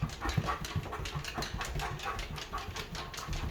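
An outside dog brought indoors pants rapidly and steadily right up close, with faint whimpers mixed into the quick breathing and no talk.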